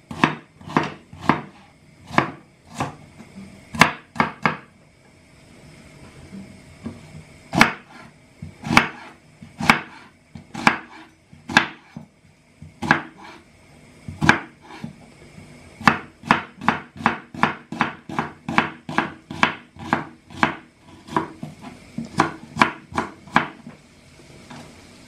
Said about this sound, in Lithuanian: šoninė smulkiai supjaustyta